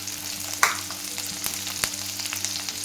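Onion and green chilies sauté in oil in a pan for brinjal biryani. A steady close sizzle runs under a low hum, with a few sharp stirring clicks, and no one speaks.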